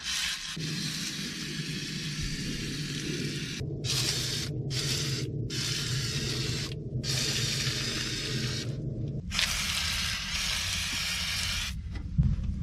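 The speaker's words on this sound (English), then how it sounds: "we're gonna hose down that carburetor." Continuous steady hiss of spray soaking the carburetor on an abandoned 1972 Plymouth Fury, close and loud, broken by a few short pauses and a brief stop before resuming.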